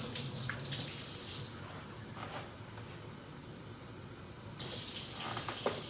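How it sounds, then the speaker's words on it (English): Water poured from a cup into a bowl of flour while mixing dough, a soft splashing pour at the start and again near the end over a steady low background hum. "then add our 2nd cup of water"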